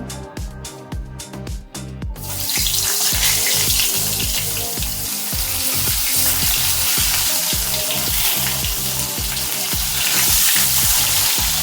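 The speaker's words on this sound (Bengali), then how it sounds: "পেঁয়াজটা ভাজা ভাজা করে তারপরে সবজিগুলো দেবো।" Steady loud sizzling of onions frying in hot oil for a Malabar spinach and fish-head curry, continuous hiss with a faint rhythmic ticking underneath, close by.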